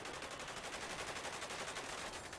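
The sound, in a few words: gunfire in a video game police roleplay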